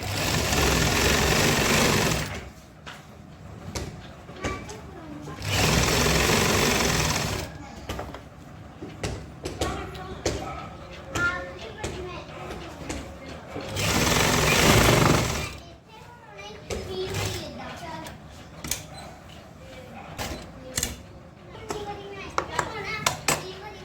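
A sewing machine stitches a lace-trimmed neckline design in bursts, with loud whirring runs separated by quieter stretches of handling and speech.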